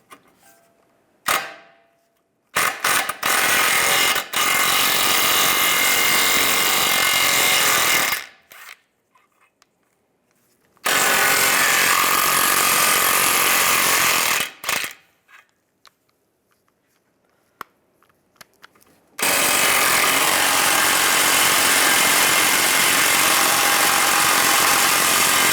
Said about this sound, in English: Take these 3 bolts out for the ball joint.